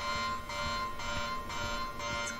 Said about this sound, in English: That's the sound of this alarm.